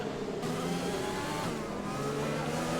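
F1 2020 video game race start as cars accelerate off the grid, a dense, steady engine roar with a rising pitch, moderately quiet, running continuously without talk.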